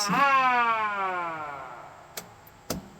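A siren on a Century Coronado wooden boat wails with a long falling tone that slowly fades, followed by a couple of sharp clicks near the end.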